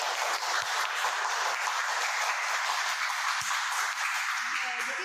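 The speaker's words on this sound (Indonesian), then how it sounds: "Boleh tepuk tangan buat Iban." Students applaud in a classroom during a microteaching session, a steady wash of clapping heard from some distance at low volume.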